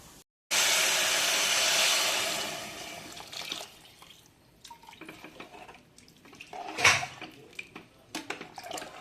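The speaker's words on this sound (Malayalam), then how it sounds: "ഇനി നമുക്ക് ഇതിലേക്ക് ആവശ്യമായ വെള്ളം ചേർക്കാം" Water poured into a cooking pot for vegetable biryani: a loud steady rushing gush for a couple of seconds that tapers off, followed by scattered clinks, drips and handling noises.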